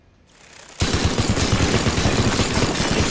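Rapid, continuous automatic gunfire from a Nerf gun in the video game Teardown, starting abruptly and holding loud and steady as a dense rattling burst with no speech.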